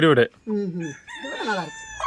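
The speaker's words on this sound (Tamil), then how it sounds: "சேவலோட ஒரு ரகம் இது" A native country rooster crows loudly and close by, a long, wavering cock-a-doodle-doo. Shorter clucking calls come before it, with farmyard fowl sounds and no talk.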